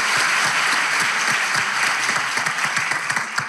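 A studio audience at a Turkish comedy talk show claps steadily, a dense, sustained wash of many hands with some individual claps standing out, loud and continuous with no talk over it.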